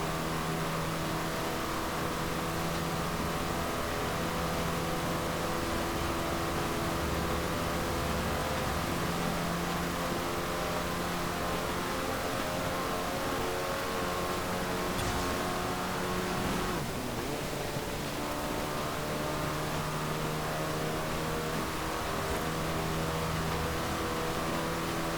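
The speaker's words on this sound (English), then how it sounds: "let you listen to the engine for a little bit" A 1975 Citroën DS 23 engine in Forza Horizon 4 drones steadily throughout with a low, even rumble and stable harmonic tones, briefly shifting pitch midway before settling again.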